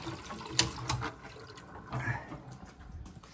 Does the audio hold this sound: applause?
no